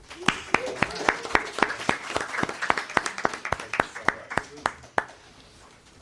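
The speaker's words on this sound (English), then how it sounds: "give a warm round of applause for our host and" Audience applause for the host and moderator at a blockchain and hip hop panel event, made up of a few sharp, distinct hand claps over a murmuring crowd, with voices talking underneath, ending in near silence.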